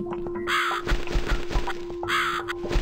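Harsh caws from a crow in the video game The Cat Lady come in two clear bursts separated by a gap, loud and close, over a faint steady tone and low background thuds.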